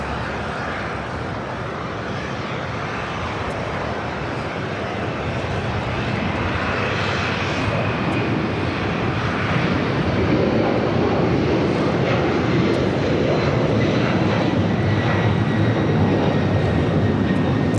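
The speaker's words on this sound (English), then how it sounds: "This is Delta Airlines 951 taking off to JFK on a 767-300" Delta Airlines Boeing 767-300 taking off at LAX, a steady distant jet engine roar that slowly swells in loudness, broad and rushing, with no talk.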